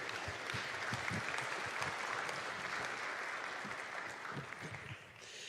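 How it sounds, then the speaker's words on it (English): Workshop attendees give sustained applause for the event sponsors, many hands clapping in a room, moderately distant and fading slightly near the end. "can we give them a round of applause"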